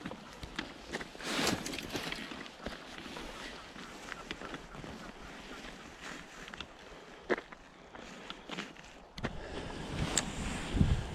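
Gusty wind by a canal buffets the microphone in broad roaring swells, mixed with scattered rustles and knocks, fairly loud and close, without talk.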